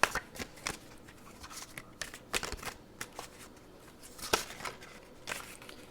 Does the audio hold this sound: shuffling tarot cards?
yes